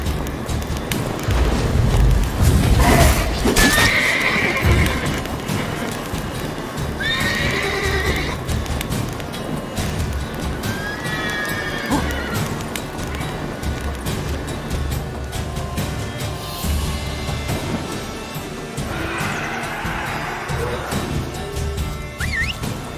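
Roach the horse in The Witcher 3 whinnies several times over a constant rumble of galloping hooves, with game sound effects and a low boom in the mix.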